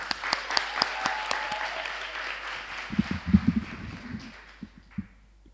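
Applause from an audience at a Latvian gathering rises and falls for several seconds, dense clapping near and fairly loud, tapering off with a few scattered claps toward the end.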